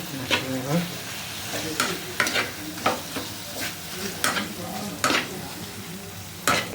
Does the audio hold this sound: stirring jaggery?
yes